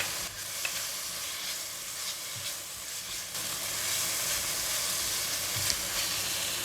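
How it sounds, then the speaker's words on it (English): Yellow onions, fried garlic and red chili stir-fried in a pan for a crab curry, giving a steady, close sizzle and hiss with scraping stir strokes throughout, no voices. "Now put in the yellow onions, fried garlic, red chili."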